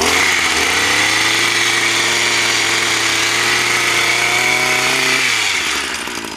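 Small petrol engine of an aquatic vegetation groomer weed cutter held at a steady low idle while cutting cattails at a pond, a loud continuous drone that drops away near the end.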